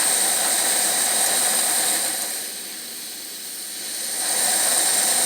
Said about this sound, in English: See how quick that thing lights and how quick it takes a blue flame because the generator is already hot.